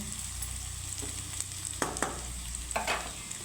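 Gathi kochu (taro) frying in a pan and being stirred, a steady close sizzle with a few scraping clatters of the spoon across the pan.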